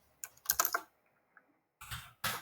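Keys clacking on a computer keyboard while HTML code is typed: a short burst of several quick strokes, a pause, then two more brief clusters of taps, close and fairly quiet.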